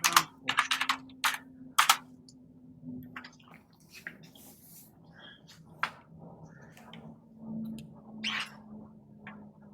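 Keys clatter on a computer keyboard in a quick burst of close, crisp taps, then slow to scattered single presses with pauses between them.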